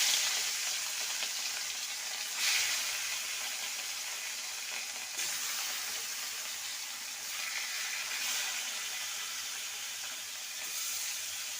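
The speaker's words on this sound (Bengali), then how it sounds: "মাছগুলোকে এবার ছেড়ে দেবো। তেলটা ভালো মতন গরম হয়ে গেছে।" Fish frying in hot mustard oil in a wok, with a steady, dense sizzling hiss that holds throughout, with a few brief swells, close and even.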